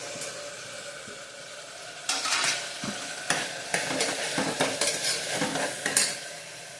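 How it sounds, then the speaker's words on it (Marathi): Sesame seeds hit a hot pan for a vegetable pulao, starting with a low steady sizzle, then bursting into louder crackling after a couple of seconds, with repeated scraping stirs and a few clinks against the pan. "थोडं तीळ टाकायचं याच्यामध्ये."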